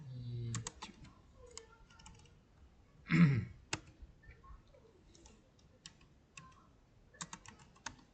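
Someone types on a computer keyboard in a quiet room, leaving sparse, irregular clicks with short pauses between bursts. A single louder thump lands midway.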